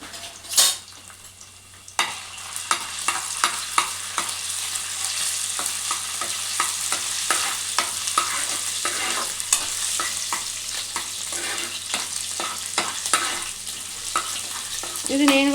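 Sliced ginger and garlic stir-fry in a pan for Schezwan egg fried rice, a continuous sizzle broken by frequent scraping and clinking stirs, opening with a sharp knock.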